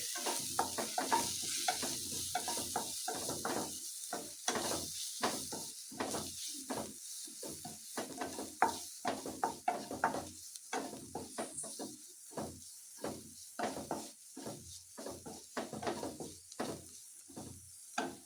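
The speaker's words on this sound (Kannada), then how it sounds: "ಈ ಥರ ಫ್ರೈ ಫ್ರೈ ಮಾಡಿಕೊಂಡು" Paneer fried rice masala sizzles and fries in a pan while being stirred. A steady hiss runs under repeated scraping strokes that come in an uneven rhythm, close up, with no voices.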